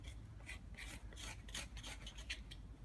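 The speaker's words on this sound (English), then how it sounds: "So I'm going to scrape this a little bit" Close, steady rasping as a blade scrapes the bark and wood of a bonsai trunk being prepared as a raft, in repeated short strokes with no talk.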